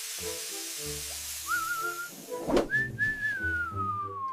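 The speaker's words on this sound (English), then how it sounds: "It's like a cooker letting out steam when pressure is too high." A pressure cooker lets out steam: a thin whistling tone rises and holds, then a brief hissing burst comes before the whistle returns and slowly fades, all fairly faint.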